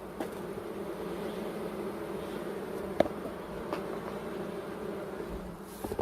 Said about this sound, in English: I want you to listen to these bees.